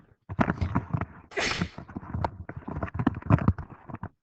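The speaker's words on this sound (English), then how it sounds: "Sorry, just sneezing." A single loud sneeze bursts out close by, surrounded by rustling, shuffling movement noise before and after.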